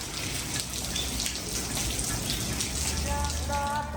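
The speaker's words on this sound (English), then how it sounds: "It is raining once again." Rain falls steadily at night during rainy season in southern Thailand, a constant hiss of drops pattering on surfaces, with faint background voices murmuring underneath.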